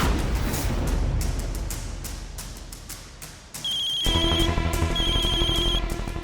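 A phone ringtone starts partway through, a repeating electronic ring with steady high tones, following a stretch of clattering background noise.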